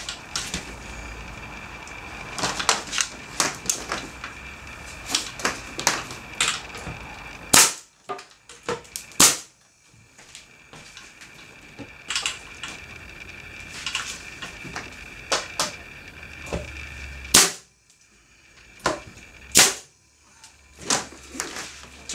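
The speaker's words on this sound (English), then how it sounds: "and then tack them together with the nail gun" A nail gun tacks wood pieces together for an aquarium stand, firing a long series of sharp, loud snaps in irregular clusters with brief quiet gaps and no talking.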